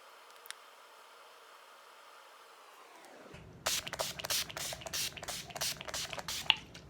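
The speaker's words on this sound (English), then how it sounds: "I just went with my Skindinavian spray and sprayed my face to set it" Bursts of Skindinavian setting spray mist onto a face, several quick close hisses in a row after a quiet stretch of steady background noise.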